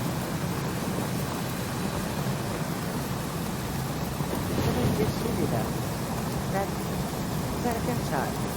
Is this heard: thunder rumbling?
yes